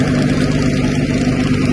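Tractor engine running steadily with a Sarvashakthi rotavator attached, a loud, continuous low droning hum held at an even level throughout, with no talk over it.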